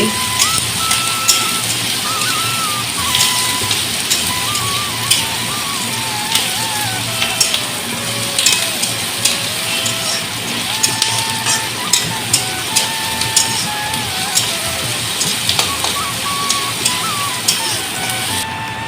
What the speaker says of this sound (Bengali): পেঁয়াজটাকে হালকা করে ভেজে নিতে হবে